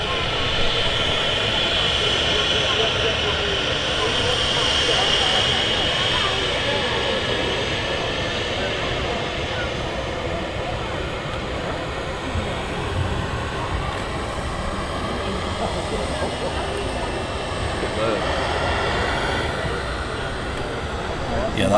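An aircraft taxiing at Manchester Airport makes a steady, broad engine rumble with a thin whine on top, heard from a distance over most of the stretch, with some talk around it.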